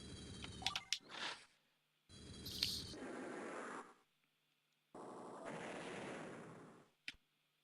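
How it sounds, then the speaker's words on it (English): Bursts of rapid mechanical gunfire from a fighter aircraft attacking a T-copter in Advance Wars, three separate volleys of a second or two each with short gaps and a final sharp crack. "this other fighter, I'll attack the T-copter from above"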